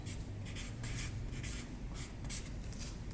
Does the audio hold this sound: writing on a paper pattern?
yes